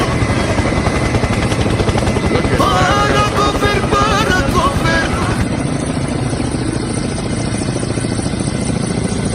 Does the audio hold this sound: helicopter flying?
yes